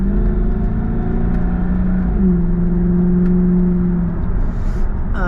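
A Jaguar XKR 4.2 engine drones at steady revs through its 5-speed automatic gearbox, shifted manually. The pitch drops in two distinct steps as it changes down, heard up close and constant, with no talking.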